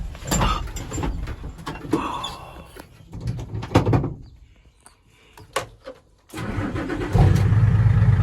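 Truck engine cranking and catching after sitting overnight, with bursts of mechanical clatter and a door sound, then a lull before the engine settles into a loud, steady idle.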